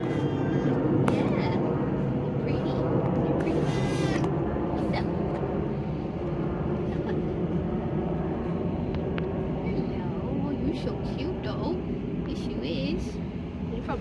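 A cat meows several times amid steady busy background noise and people talking, the cries faint to moderate and scattered through a long stretch at a café near the Belgian-Dutch border enclaves.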